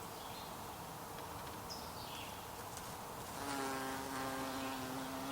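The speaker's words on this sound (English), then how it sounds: "There's Mr. Bumblebee, or Mrs. Bumblebee probably." A bumblebee buzzes close by, its low drone swelling louder and steadier midway as it passes near, over a faint outdoor background.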